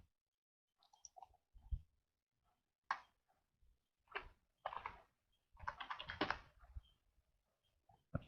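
A family ID number being typed on a computer keyboard, bursts of quick close key clicks separated by short pauses, alone in a quiet room.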